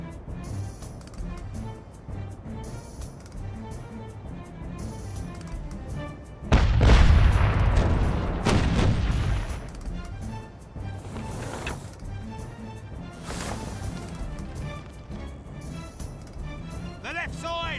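Ship cannons fire a broadside in the pirate game Caribbean Legend: a loud booming burst of blasts around the middle, with further scattered booms fading behind background music and occasional talk.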